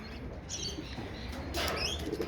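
A young pigeon flaps its wings close by in several quick fluttering bursts, ending in a louder flurry of beats, with faint background noise and no speech.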